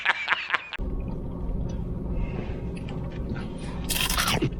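Someone bites into a crunchy Ilocano empanada with a rice paper shell, filled with cabbage, egg and longganisa. A short burst of crisp crunching comes first, then close, low chewing, with another crackly crunch near the end.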